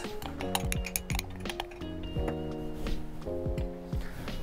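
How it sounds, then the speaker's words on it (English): A spoon clinks rapidly against a mug while dry mug-cake ingredients (flour, salt, stevia, baking powder) are stirred, a close run of light metallic taps in quick irregular rhythm, with faint background music. "So let's mix the dry ingredients."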